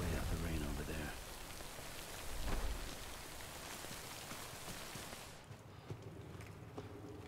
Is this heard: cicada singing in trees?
no